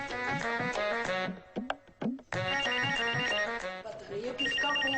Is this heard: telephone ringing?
yes